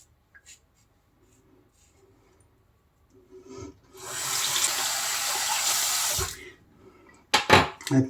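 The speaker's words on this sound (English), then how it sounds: "Let me rinse off this residue" Tap water runs steadily into a sink for a few seconds while someone rinses off after a double-edge wet shave, preceded by quiet handling sounds and followed by brief splashes and knocks.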